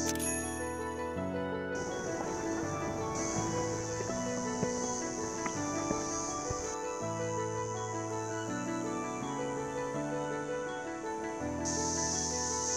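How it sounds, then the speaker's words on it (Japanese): Cicadas shrill in a dense, continuous high buzz that pulses in strength at Shiretoko Five Lakes in Hokkaido. Steady tonal music plays underneath throughout. "セミの鳴き声すごい。"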